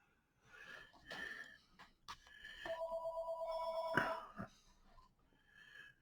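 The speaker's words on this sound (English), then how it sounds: "Here come the phone calls." A telephone rings with a steady electronic tone for a couple of seconds, fairly faint amid muffled room noise and brief clatter, with short fainter rings before and after.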